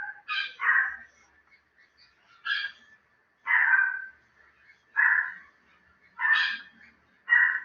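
A small dog barking, seven short yelping barks spaced irregularly over several seconds, fairly close and clear against a quiet indoor background.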